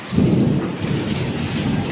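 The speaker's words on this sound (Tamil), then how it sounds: "மழை டப்டப்புன்னு அடிக்கிப்பா. பெரிய மழையாக வருதுப்பா பாருங்கப்பா" Heavy rain and hail pour down in a dense, steady roar with a deep rumbling undertone, loud and continuous throughout, no voices.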